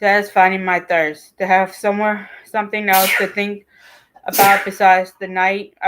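A person reading aloud from a book sneezes twice, giving sharp bursts that break into the steady, close-up reading voice.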